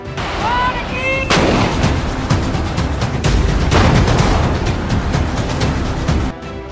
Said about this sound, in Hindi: जब हमारी सेना के जांबाज सिपाही गोला बारूद और तोपों के बीच डटे हुए थे